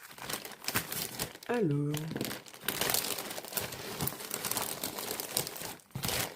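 A crinkly parcel package being opened, with rustling and crumpling plastic running throughout under someone speaking French.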